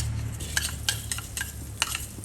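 Soft sizzling in a pan as garlic, coriander root and pepper are stir-fried in about a tablespoon of oil, with the scrape and clink of a utensil stirring at intervals, steady and close.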